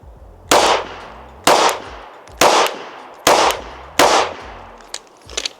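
A PSA Dagger compact pistol fires five slow, evenly spaced rounds at an outdoor range from seven yards: sharp, loud cracks about a second apart, each followed by a short ringing echo, with no talking.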